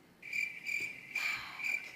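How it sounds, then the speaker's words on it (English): Cricket chirping in steady bursts, four trills in two seconds with short gaps between them, close and alone with no voices. "Crickets?"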